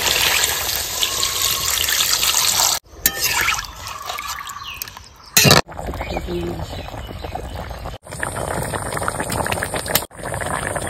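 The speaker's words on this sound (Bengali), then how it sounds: "এবার দিয়ে দেবো ঝোল।" Watery broth poured into a rohu fish curry cooking on the stove, giving a steady loud hiss and splash with brief breaks between pours; someone speaks over it now and then.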